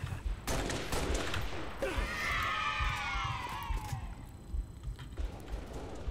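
Gunfire in the Halo Reach video game: rapid bursts of shots crackle loudly and continuously, with whooshing sweeps passing through the middle of the firefight.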